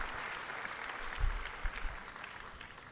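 Audience applause after a song at a spiritual retreat's sixth anniversary event, a steady wash of clapping from a crowd at moderate distance, lasting throughout with a few louder bumps.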